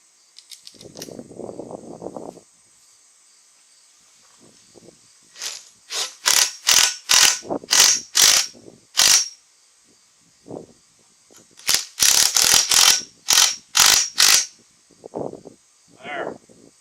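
A ratchet socket wrench clicks in fast bursts of sharp ratcheting strokes, close and crisp, in two main runs with pauses between, while work on front steps and railings carries on around it.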